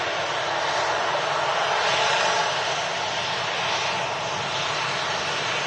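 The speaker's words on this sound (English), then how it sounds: "And of course, got the Colossus A380 taxiing up" An Airbus A380 taxiing at an airport, a loud, steady jet engine roar and whine that holds close and constant throughout.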